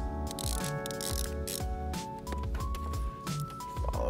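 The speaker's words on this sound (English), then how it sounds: "So we'll start with a 10 millimeter, pull off the negative terminal first." Ratchet wrench with a 10 mm socket loosening the negative battery terminal on a VW MK7 GTI/Golf R, giving close, quiet bursts of rapid ratcheting clicks separated by short pauses.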